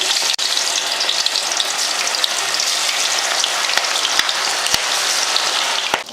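Soaked chillies deep-frying in hot oil for mutton biryani, a steady dense crackling sizzle running throughout with a few sharper pops near the end, close and fairly loud with no voices.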